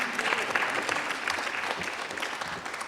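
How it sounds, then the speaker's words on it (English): A Unitarian congregation applauds during a Sunday service, a soft, steady wash of many hands clapping, heard from some distance for about three seconds without speech. "Yes, you can clap."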